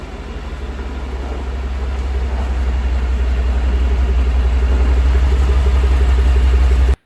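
A 2011 Ford F-150 truck is driven into a garage; its engine gives a steady low rumble that swells slightly as it rolls closer, then cuts off abruptly at the end.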